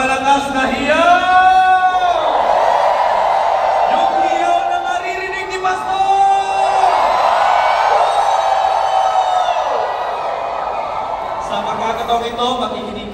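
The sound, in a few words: rally crowd shouting loudly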